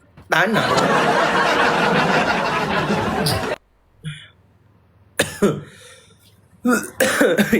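A burst of harsh coughing up close, followed by a few shorter coughs and throat-clearing sounds separated by quiet pauses.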